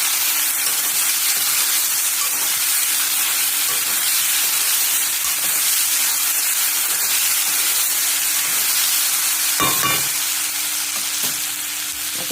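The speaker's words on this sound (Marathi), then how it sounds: "आता असं थोडेसे परतून घ्या. आता छान परतलं चाललं." Moong and chavali sprouts sauté in a pan with a steady, loud sizzling hiss, punctuated by a few scraping stirs of a spoon against the pan; no voices.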